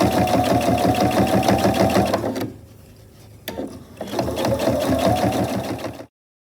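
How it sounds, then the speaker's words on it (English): A sewing machine stitches around the top of a reversible tote bag, running close and loud in a fast steady chatter, pausing briefly for about a second and a half before starting again, then stopping. "I'll sew all the way around the top of the bag"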